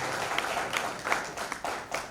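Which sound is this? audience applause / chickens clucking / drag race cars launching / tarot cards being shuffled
audience applause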